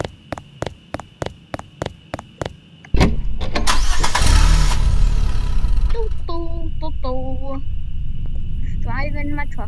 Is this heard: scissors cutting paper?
no